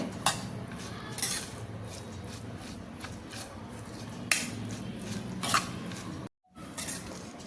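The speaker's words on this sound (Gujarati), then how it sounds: "હવે આપણે બધી વસ્તુને બરાબર મિક્સ કરી લેવાની છે એકદમ સરસ એવું મિક્સ કરી લેવાનું છે" Cheesy corn bhel being stirred in a bowl, light repeated scrapes and clinks of a spoon against the bowl over a soft rustle, brief gap near the end, nobody talking.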